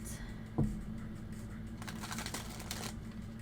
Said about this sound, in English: Let me start the shuffling here.